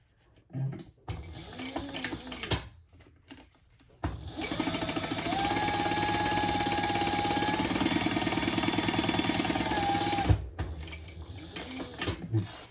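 A sewing machine bastes fabric. After a few short starts and stops it runs in one steady, close, whirring stretch of rapid stitching for about six seconds, then halts and ends with a few more brief bursts.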